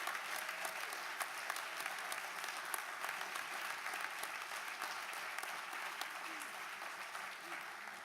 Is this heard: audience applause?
yes